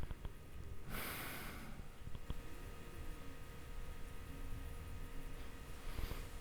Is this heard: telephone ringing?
no